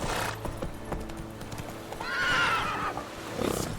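Roach the horse gallops in The Witcher 3 with quick, close hoofbeats, then gives a loud whinny near the end.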